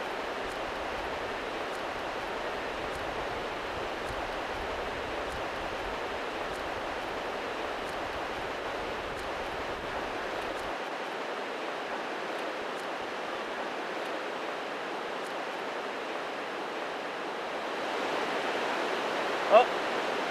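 Tide water rushing in over clams on a beach, a steady wide wash of noise with no gaps, and a faint rumble underneath that drops away partway through.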